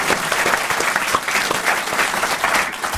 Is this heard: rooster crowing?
no